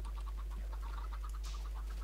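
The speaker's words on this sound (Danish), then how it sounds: "Væk med jer dumme kyllinger." Chickens cluck in the Tekkit modpack for Minecraft. A quick, even string of small clucks sits over a constant low electrical hum, with no speech.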